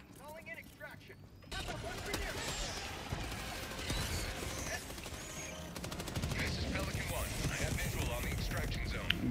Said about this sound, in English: the shotgun is so bad, man